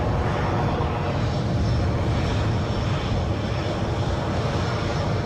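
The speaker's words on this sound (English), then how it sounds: "That turboprop I can hear is an ATR 72-600" An ATR 72-600 turboprop airliner at Edinburgh airport on a gusty day, its engines giving a loud, steady low droning rumble that stays constant and close throughout, with no talk.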